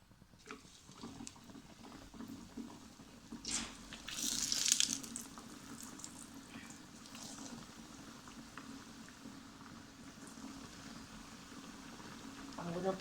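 Samosas deep-frying in oil on low heat, a faint steady bubbling and sizzle with a brief louder crackle as they go into the pan.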